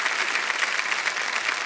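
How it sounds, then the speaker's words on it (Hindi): Studio audience at the KBC India quiz show applauds a contestant as she takes her seat: dense, steady clapping from many hands, loud and even throughout with no voices on top. "तालियां बजती रहें इनके लिए"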